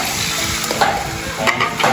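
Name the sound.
catfish (hito) frying in hot oil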